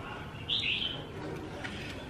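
Young hwamei birds in a cage give a short, bright chirp, faint and close, in an otherwise quiet room.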